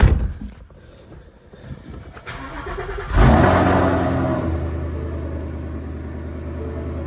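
Supercharged Mustang GT V8 with a Gen 6 Whipple blower and 100K miles cranking briefly, then catching with a loud burst and settling into a steady, rumbling idle close by.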